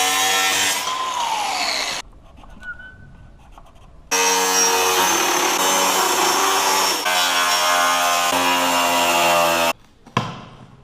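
A power saw cuts aluminium LED strip channels to length in two loud sustained bursts separated by a quieter pause, ending with a short clunk; no one speaks.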